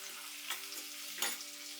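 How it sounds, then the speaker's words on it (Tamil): Onions frying in hot oil for a mushroom pepper fry, a steady close sizzle broken by a couple of brief stirring scrapes, with no voices. "இப்போ பொறிஞ்ச உடனே நம்ம அந்த வெங்காயத்தை உள்ளே போட்டுக்கலாம்"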